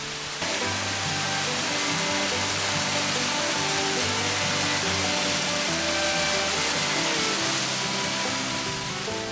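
Yongchu Falls, a three-tiered waterfall, roars as a dense, steady wash of rushing water that fills the whole span at constant loudness, heard close with no voices.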